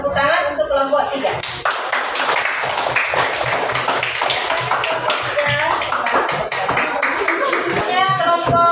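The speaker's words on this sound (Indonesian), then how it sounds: "saya tepuk tangan untuk kelompok 3" Classmates clap for group 3 in a school classroom, a loud, uneven patter of hands that starts after a moment and runs on, with children's voices chattering over it.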